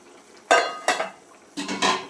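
A lid clatters onto a metal pot of fish curry made with tengra fish and plantain, close and fairly loud in two separate pairs of clinks and knocks, with no talk.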